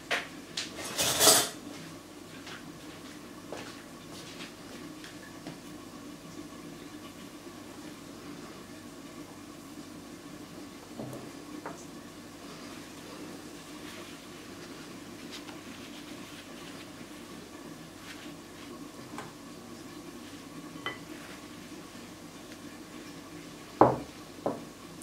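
Sugar and egg being mixed in a bowl for German Easter biscuits, faint scraping and light clinks of a utensil against the bowl, with a louder clatter near the start and another near the end.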